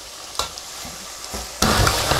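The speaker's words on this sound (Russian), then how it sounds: "в кипящее масло, в разогретое, мы кладем индейку и жарим ее где-то порядка 3-5 минут" Turkey sizzling and crackling in hot oil in a kazan, with a few stirring knocks, then a sudden louder burst of frying that continues steadily. No voices.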